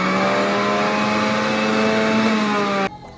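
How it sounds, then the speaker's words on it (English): An electric juicer making celery juice runs with a loud, steady high-pitched motor whine that cuts off abruptly near the end. "I'm trying to make some celery juice, and I got this juicer, but I'm scared to use it because look,"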